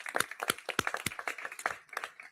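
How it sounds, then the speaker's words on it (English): Scattered hand clapping from an audience at a California event with Governor Newsom, a few separate claps in an uneven rhythm, fairly close and modest in volume rather than a full ovation. "Let's give him a huge round of applause."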